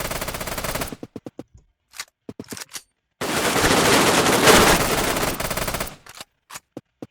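Shotgun blasts in the shooter game Redmatch 2, with a scatter of sharp, close shots, then a long continuous burst of heavy fire, then more separate bangs trailing off.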